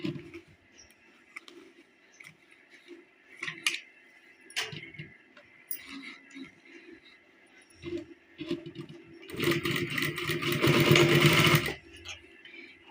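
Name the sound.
sewing machine stitching a folded fabric margin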